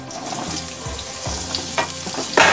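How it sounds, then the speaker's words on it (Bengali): Potatoes hit hot oil that already holds fried whole spices, giving a loud rising sizzle with stirring scrapes and a sharp burst of spattering at the end. "আমি এবার আলুগুলোকে দিয়ে দেবো।"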